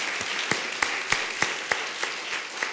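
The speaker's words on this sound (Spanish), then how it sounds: "Démosle un aplauso al Señor por las personas que nos acompañan." A small congregation at a church service claps in a loose, sparse way, with a few sharper individual claps standing out at roughly regular intervals over a soft bed of hand noise.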